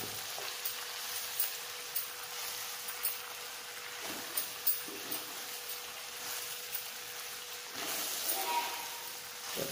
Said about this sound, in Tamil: கம்மியாகிடுச்சு பாருங்கள் கீரை வதங்கிறது